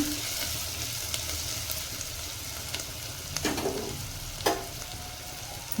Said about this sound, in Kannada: ಈಗ ಇದು ಸ್ವಲ್ಪ ಫ್ರೈ ಆಗಲಿ